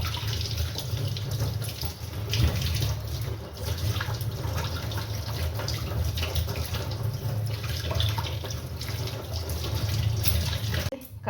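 Tap water runs continuously into a sink while scaled katla fish are washed, a steady rushing flow with occasional clatters and splashes and a voice talking faintly underneath.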